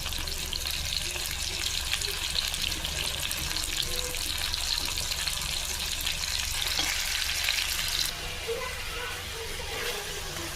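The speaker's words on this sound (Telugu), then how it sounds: "ఇప్పుడు ఇలా ఆయిల్ సెపరేట్ అయ్యేంత వరకు బాగా ఉడికిందండి చికెన్" Marinated chicken cooking in oil for chicken pulao, frying until the oil separates, gives a steady, close sizzling hiss that holds throughout and eases slightly near the end.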